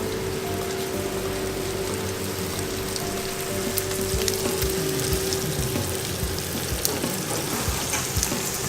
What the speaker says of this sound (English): we'll take the potatoes, add them to this pan.